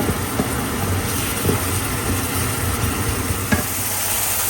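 Shrimp stir-fried in a pan give a steady, close sizzle broken by scattered scraping taps as they are moved around.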